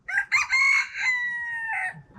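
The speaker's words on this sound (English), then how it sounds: "The Key West chickens are an icon," A Key West rooster crows loud and close, one long drawn-out call with no talk over it.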